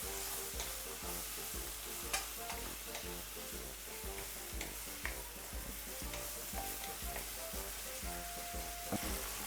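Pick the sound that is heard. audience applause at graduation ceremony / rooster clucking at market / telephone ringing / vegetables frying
vegetables frying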